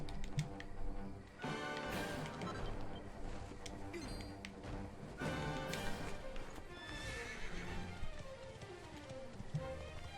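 A horse gallops in Dragon Quest 11 on the Switch, steady rapid hoofbeats with a whinny under dense game music and effects, fairly loud and continuous.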